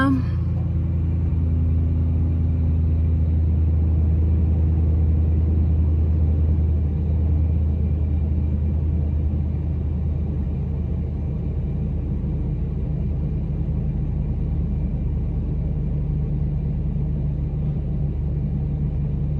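A steady low engine rumble drones throughout, close and continuous like an idling truck heard from inside the cab, with no talking.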